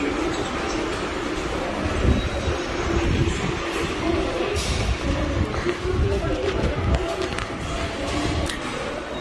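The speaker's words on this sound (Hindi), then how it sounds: "ये अभी भी मैं मेट्रो स्टेशन में ही हूँ" Busy underground metro station in South Korea, with a train rumbling along the platform amid steady station ambience and footsteps, while someone talks over it near the microphone.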